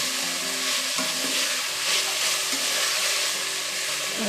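Green peas are stirred into a sizzling pan of frying soya vegetable pulao, a loud, continuous hiss and crackle with steady scraping of the spoon, no voices.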